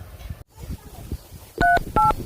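A telephone keypad plays two short DTMF dialing tones, one after another, after faint talk and background murmur in a comedic Madurese rural scene.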